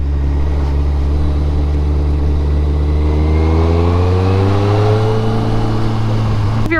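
A Kawasaki Concours 14 motorcycle engine lugs under acceleration, its loud, close drone rising slowly and steadily in pitch over several seconds, with no talk.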